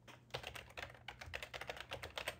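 Fast typing on a computer keyboard, dense runs of crisp key clicks in quick bursts with brief pauses, close and fairly quiet over a low steady hum.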